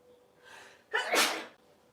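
A single loud sneeze, with a soft inhaling buildup followed by an explosive burst, close and clear in a quiet room.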